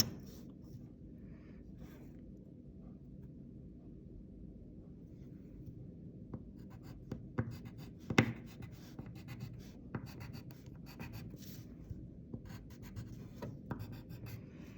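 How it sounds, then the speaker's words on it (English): A pen draws a dashed line on a graph, faint scratchy strokes and light taps on paper coming in short, uneven bursts, close and quiet with no talking. "let's draw that dashed line."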